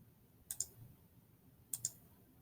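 Two pairs of quick, faint computer mouse clicks, each a double click, sound against a quiet background while someone draws a center line in CAD software, the pairs spaced about a second apart.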